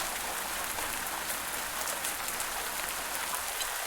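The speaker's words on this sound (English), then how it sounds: "Oh my gosh, it's raining." Rain falls in a farming video game as a steady, even hiss of drops on the ground. It sounds close, does not change from start to finish, and no one speaks.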